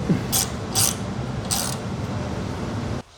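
Ratchet tightening an engine tank bracket bolt on a flea-market engine: three short bursts of fast ratcheting clicks, close and fairly loud, over a steady background hum that cuts off at the end.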